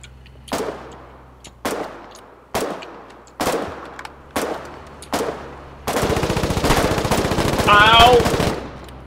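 Machine gun fire in the war game Foxhole: five separate loud bursts, each trailing into echo, then a long sustained rattle of rapid gunfire with other battle noise underneath.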